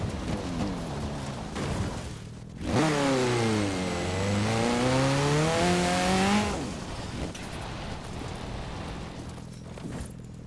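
A Ford Capri FE climbing a hill in Forza Horizon 4, its engine note surging loud and close, pitch rising and falling under load for several seconds before easing back to a quieter idle-like drone.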